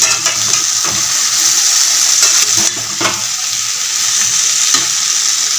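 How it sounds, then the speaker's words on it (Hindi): Small diced potatoes sizzle as they are tempered in a pan for aloo parathas in a home kitchen, a loud, steady frying hiss with faint stirring scrapes and no talk. "यहाँ पे हमने आलू छौंक दिया। आलू छोटे छोटे करके और हम छौंक देते हैं"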